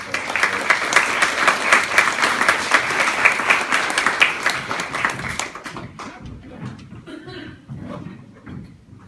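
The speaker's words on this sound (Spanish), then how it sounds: "Un fuerte aplauso, por favor" An academic book-launch audience applauds at the close of the session, dense loud clapping that tapers off over the last few seconds into scattered claps and quiet.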